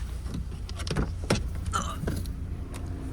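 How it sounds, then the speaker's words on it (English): A used car's engine idles with a steady low rumble, joined by a few light clicks and knocks from handling close by; nobody talks. "Let me go check this one now that it's been idling for a minute here."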